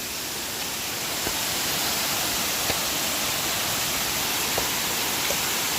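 Steady roaring rush of falling water at Sumucab Twin Falls in Cavinti, Laguna, loud and constant, with a few faint clicks over the broadband noise.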